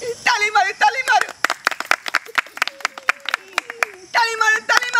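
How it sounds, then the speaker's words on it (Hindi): Hand clapping in short sharp bursts alongside singing voices at a festive Maithili wedding scene, with sung and spoken voices between the claps. "ताली मारो ताली मारो"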